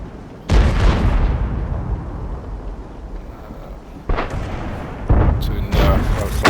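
A tank gun firing and a shell striking in World of Tanks, with a heavy booming blast followed by a long rumbling decay, then further loud impacts near the end, with speech partly underneath.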